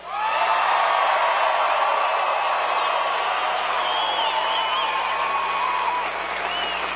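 A rally crowd in Billings, Montana fills an arena with dense, continuous applause and cheering, with scattered whoops rising above the clapping for the whole stretch at a steady, loud level.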